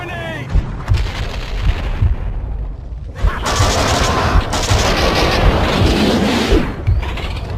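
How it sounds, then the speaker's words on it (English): Grenade blast followed by sustained gunfire in the PC shooter Max Payne 2: The Fall of Max Payne, loud dense bursts of shots and booms that fill the scene after a brief quieter lead-in. "Grenade!"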